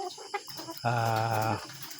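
A chicken gives a short series of clucks, then a sustained, loud, harmonic call lasting under a second, close by, with no one talking.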